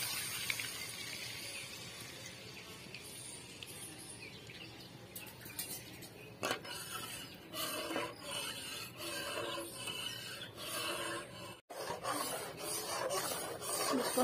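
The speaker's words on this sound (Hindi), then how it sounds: "इसको अच्छे से चलाते रहेंगे" Milk powder burfi mixture with milk stirred in a pan, a continuous scraping and rubbing texture with irregular clinks, close up and alone, with faint bird chirps in the background.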